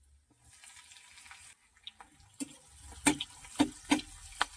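Chopped ginger and green chillies fry in a pan while a spoon stirs them, with soft sizzling and a series of sharp scraping clicks that grow louder toward the end.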